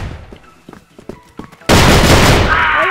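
A few quiet clicks and taps, then a sudden loud burst of rapid gunfire from the game CrossFire in pistol mode that continues as a dense, noisy roar to the end.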